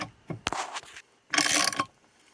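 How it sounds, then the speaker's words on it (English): A hand ratchet cranks a Mopar press used to install a ball joint, giving short, close bursts of rapid clicking separated by quiet gaps. "So I'm just cranking on this just with this ratchet right here."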